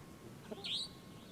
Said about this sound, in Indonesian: Itu suara burung hantu